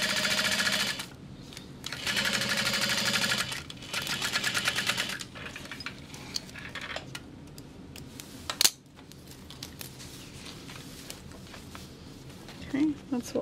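Sewing machine stitching a large fabric bag, bursts of fast rhythmic mechanical whirring separated by pauses, with a person talking in between and over the stitching.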